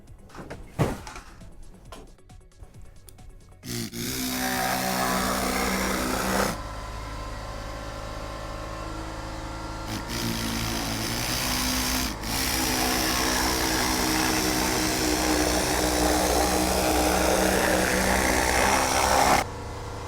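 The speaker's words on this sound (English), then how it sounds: "it's probably going to make the compressor kick on and make tons of noise" An air compressor kicks on partway through and runs loud and steady with a mechanical hum and clatter, following a few sharp knocks and handling noises in a workshop.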